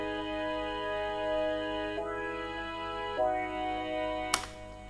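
Another LMMS synthesizer holds the same dance-track chords in a bright, buzzy tone, shifting to new chords at a slow steady pace, soft and sustained, ending with a short sharp click and no talking.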